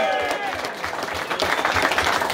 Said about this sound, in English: I'd like to put a round of applause for them.